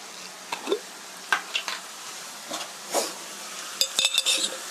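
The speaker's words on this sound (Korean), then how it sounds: "양파가 노릇노릇해질 때까지 볶아주세요" Onions stir-fried in a pan: intermittent scrapes and clinks of a utensil against metal, with a faint sizzle underneath.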